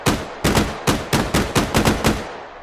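Shotgun fire in the VR game H3VR, each shot spreading ten projectiles, in a series of about seven loud, evenly spaced booms with short echoing tails.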